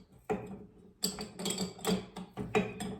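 A metal nut spun by hand onto a fan stud of a Chrysler 2.5 engine during water pump replacement, giving a series of close, sharp metallic clicks and scrapes in irregular bursts, with no talk.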